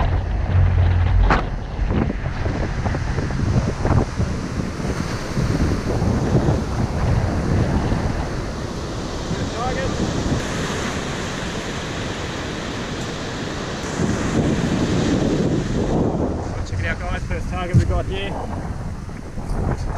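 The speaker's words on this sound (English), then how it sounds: "It's a bit windy today." Strong wind roars across the microphone at Bondi Beach, with ocean surf washing in underneath and heavy gusty rumble throughout; a brief voice is heard near the start.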